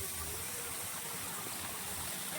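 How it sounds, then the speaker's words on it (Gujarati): A small roadside waterfall on the Ahwa–Saputara road, in heavy monsoon rain, gives a faint, even rushing hiss of falling water that holds steady throughout, with no voices. "તો મજા માણો મિની ધોધની"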